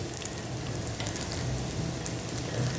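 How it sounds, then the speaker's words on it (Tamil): Chicken pieces frying in a pan the way chicken 65 is cooked, a steady dense sizzle that holds evenly close by with no talking. "இப்போ நான் சிக்கன் நல்லா இதே மாதிரி நீங்களும் வறுத்துக்கணும் நண்பா"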